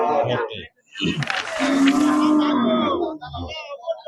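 A native desi cow at a Qurbani livestock market in Mymensingh, Bangladesh, lets out a long, low moo, with voices talking nearby before and after the call.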